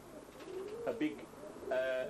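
Tippler pigeons coo softly in a small breeding loft of six boxes, a couple of brief, fairly faint coos against quiet room noise.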